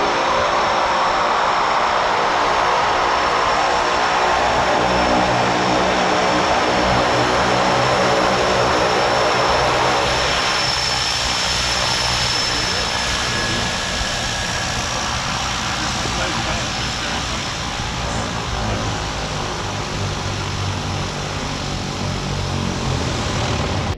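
A small propeller plane at Barra airport, the beach landing strip, drones steadily and loudly close by for the whole stretch, its engine note easing slightly partway through while voices talk over it.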